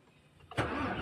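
A hard-starting engine cranks briefly, then catches and settles into a steady, close running rumble within about a second, with no voices over it.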